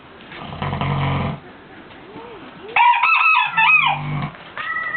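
Sleeping pigs snore with rough, throaty breaths, while a rooster resting between them crows loudly partway through, then the low snoring returns.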